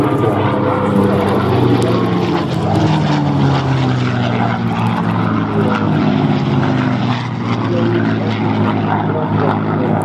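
A P-51D Mustang propeller fighter flies at an airshow, its piston engine and propeller giving a loud, sustained droning roar that swells and fades slightly as it passes.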